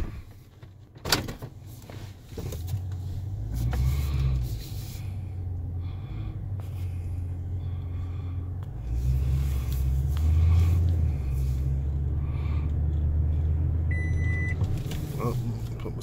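Inside a car at a pond in a woodland trails community, a door thuds shut, then the engine starts and settles into a low, steady rumble as the car pulls away, with faint rustling and a brief voice.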